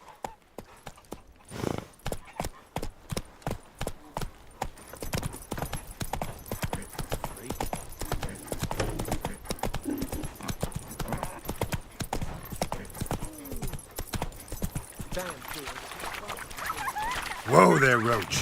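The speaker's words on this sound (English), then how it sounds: "Whoa there, Roach" Horse hooves in the video game The Witcher 3 start as a slow, evenly spaced clip-clop, then speed into a dense, rapid gallop that runs on. It ends with a louder thump and rustle.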